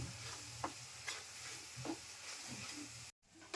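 Mixed vegetables for pav bhaji sautéing in butter with salt until golden brown: a steady soft sizzle with a few stirring scrapes, close and moderately quiet, with no talking.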